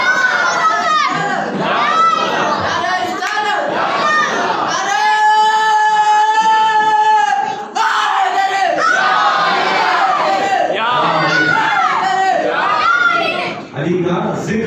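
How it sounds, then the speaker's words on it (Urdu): Large religious gathering celebrating the birthday of Imam Ali, a loud crowd chanting slogans and cheering together in dense, sustained waves with raised voices throughout. "یہ نعرے مارے تو علی علی"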